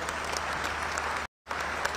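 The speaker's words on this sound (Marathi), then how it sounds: "आपण एकदा जोरदार टाळ्या वाजवून त्यांचं" Loud applause from the audience at a Marathi literary convention fills the hall as a dense, continuous clatter of clapping, broken by a brief dead gap before resuming just as strongly.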